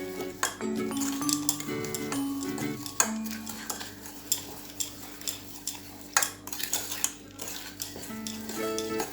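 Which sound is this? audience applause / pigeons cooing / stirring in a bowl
stirring in a bowl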